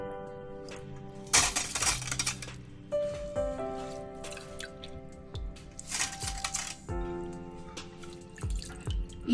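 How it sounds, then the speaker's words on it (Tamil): Water drains and drips from raw white rice that has soaked for four hours, with intermittent splashy trickles and scattered drops that come and go at close range. "இதை நான் முதல்ல வடிய வைக்க போறேன் இந்த ஈரம் போறதுக்கு."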